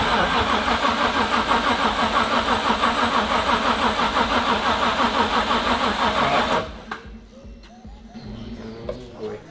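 A turbocharged LS1 V8 in a VY ute cranks on its first start, the starter churning in a loud, fast, steady rhythm for several seconds without the engine catching, then cutting out to quieter background noise and faint voices.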